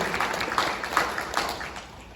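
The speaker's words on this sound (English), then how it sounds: "you can round of applause for her as well" Audience applause at a high school event in an auditorium: a moderate patter of clapping hands, fairly close, with a few louder claps standing out before it thins near the end.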